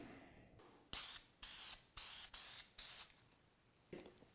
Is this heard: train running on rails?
no